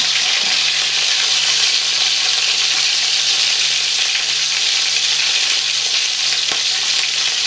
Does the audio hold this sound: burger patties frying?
yes